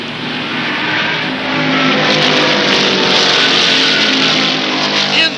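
Stock car engines roar on the track in a loud, sustained racing drone that swells and stays dense throughout, with no talk over it.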